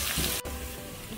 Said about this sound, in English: I'm going to be adding the prawns into this mix.